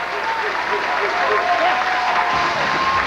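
A hometown crowd at a 2003 PBA bowling open applauds a strike in dense, sustained clapping and cheering that fills the hall throughout, with a commentator talking over it.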